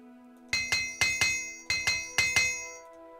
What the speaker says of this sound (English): Get ready to hear, like, banging 500 times from this frickin' hammer.